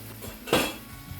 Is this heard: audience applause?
no